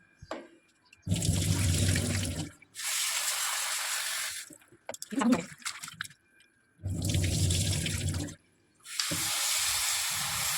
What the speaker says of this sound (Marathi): आता आपण हे पुन्हा धुवून टाकायचं.